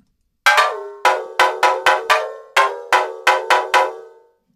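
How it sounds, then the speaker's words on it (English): Synthesized high mallet-style percussion hits, bright and bell-like, repeating ten times in a quick syncopated pattern, each note struck sharply and ringing briefly before decaying, loud and clear with no voices. "Just that high percussion sound that isn't coming through a whole lot."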